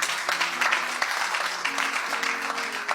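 A church congregation claps together in acclaim, a steady wash of applause with scattered louder claps and faint tonal sounds beneath.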